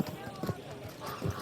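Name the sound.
horse hooves in Kingdom Come Deliverance 2 video game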